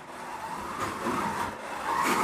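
A BRM Datsun 240Z slot car whirs around a track, its small electric motor buzzing and swelling as it passes on each lap, with faint scraping from the guide, steady and fairly quiet with no talk.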